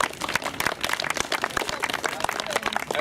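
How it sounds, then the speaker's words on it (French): A crowd applauds the secretary of a Nice taekwondo club, dense steady clapping that stays loud and close the whole way, with some voices mixed in. "donc on peut l'applaudir"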